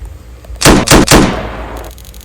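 In a Roblox horror game, three loud gunshots ring out in quick succession, each a sharp crack, and the last one trails off into a fading echo.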